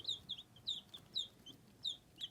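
Barred Rock and Leghorn hens outdoors make a faint, regular series of short high clucks, about eight soft notes in quick rhythm, with no talking.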